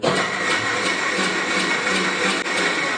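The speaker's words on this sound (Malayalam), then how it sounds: "ഈ പാല് ഒരു മിക്സി വെച്ചിട്ട് അടിച്ചു കഴിഞ്ഞാൽ ഇവൻ" A mixer grinder blends milk in its jar, running as a steady, loud whirring motor hum with a faint rhythmic pulsing for the whole stretch, close up and without talk.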